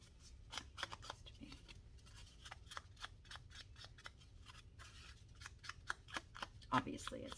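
Scissors cut paper for an accordion-fold junk journal, making a quick series of close, crisp snips. The snips are uneven in rhythm and quiet overall.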